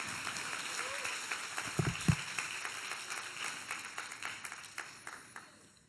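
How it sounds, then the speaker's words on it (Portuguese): A congregation applauds during a church service, with soft, steady clapping heard at a distance and a few louder claps standing out. "Aplauda o Senhor com alegria."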